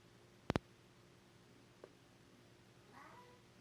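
A single short, faint meow near the end, after a sharp click and a soft tap in an otherwise quiet room.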